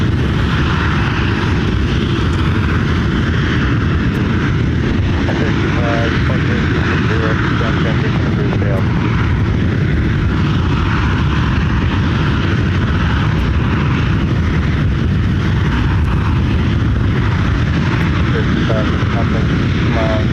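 A 31-year-old airliner at Ontario International Airport, California, its steady engine roar filling the airside scene continuously and loudly throughout.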